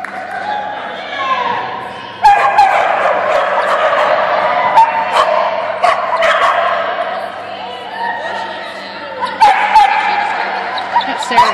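A dog barks and yips repeatedly at moderate distance amid a busy indoor scene, with people talking and cheering over and around it throughout.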